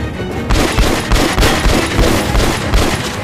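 Shotgun blasts in the video game Metro Last Light, a loud burst of repeated booming shots starting after a brief lead-in, firing rapidly and densely over continuous noisy game ambience, with no talking.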